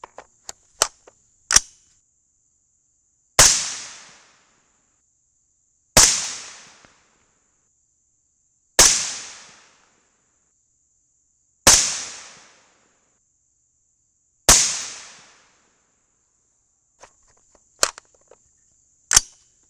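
Five loud, sharp .223 rifle reports fired with CCI 400 primers, spaced roughly three seconds apart, each ringing out and decaying; a few smaller clicks and pops come before and after the shots.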